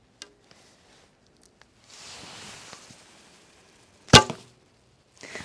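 A 38 lb Turkish bow V3 from Yuwen Bows looses an arrow, giving one sharp close snap of the string near the end that is followed by a brief thrum, after soft rustling and handling noise.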